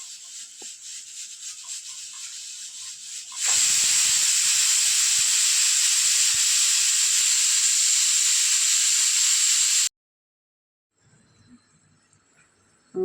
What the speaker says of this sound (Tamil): நம்ம குக்கர் விசில் அடங்கிடுச்சு.